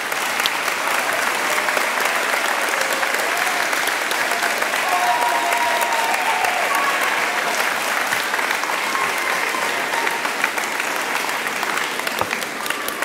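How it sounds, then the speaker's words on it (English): Sustained audience applause at a high school graduation ceremony, a dense, steady wash of many hands clapping that holds at an even, fairly loud level from start to finish. "and others a round of applause."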